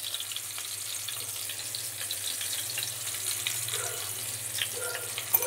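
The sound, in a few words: tomatoes frying in oil with salt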